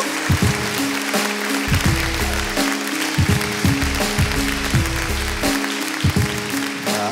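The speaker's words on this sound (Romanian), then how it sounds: "Aplauze, vă rog" Dense applause from a comedy roast audience fills the whole stretch, with steady music playing underneath and no pauses.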